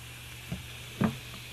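Aztec clay mixed with apple cider vinegar fizzes and crackles softly, like a freshly opened soda, with a few faint stirring clicks and no talking.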